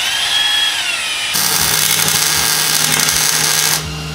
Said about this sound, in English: we're just gonna drill it out